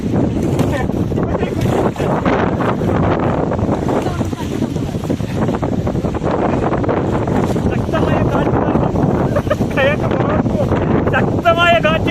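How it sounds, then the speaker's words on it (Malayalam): Strong wind gusts roar continuously across the microphone while kayaking on open water in Riga, a loud, buffeting rush that persists throughout with faint chatter. "ശക്തമായ കാറ്റ് കാരണം കയ്യൊക്കെ പുറത്തോട്ട് പോകാൻ."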